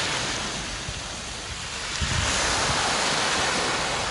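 Sea waves washing onto Coral Cove, a small coarse-sand beach on Koh Samui, with a steady loud roar of surf and wind and a swell of crashing water midway.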